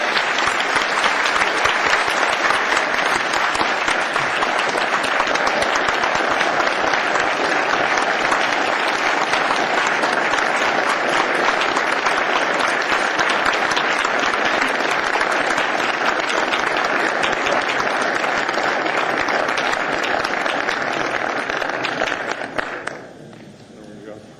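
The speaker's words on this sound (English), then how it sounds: "can we just give a round of applause for the three members that are here that are leaving" A large crowd at a regular assembly meeting gives a round of applause for three departing assembly members. Dense, steady clapping holds for over twenty seconds before tapering off at the end.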